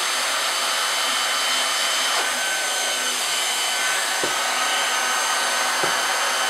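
Heat gun blowing a steady, loud hiss of hot air while heating HDPE fabric for a repair with a roller, continuous and close with a few faint clicks underneath.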